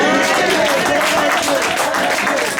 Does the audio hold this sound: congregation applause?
yes